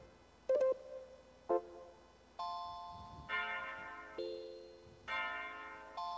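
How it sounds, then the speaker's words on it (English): An electronic keyboard set to a regular bells voice plays a handful of separate chiming notes, each ringing out and decaying, clear and close with no talking. "There we go. Just regular bells."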